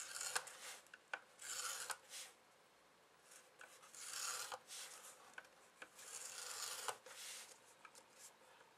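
Paper being scored every half inch on a diagonal score plate, repeated soft scraping strokes with faint taps between them, close and quiet, no talking.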